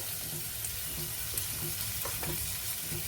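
Sprouted rajma, black peas, chickpeas and red chickpeas are sautéed in a pan, a steady close sizzle with occasional light scrapes of stirring throughout.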